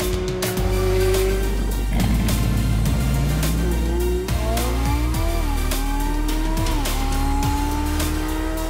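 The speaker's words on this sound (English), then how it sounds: "when you hear the engines roar, you'll know exactly why" Supercar engines costing over $2 million roar and rev loudly up close, with rising and falling pitch sweeps from acceleration and gear changes, plus brief tire squeals, continuous throughout.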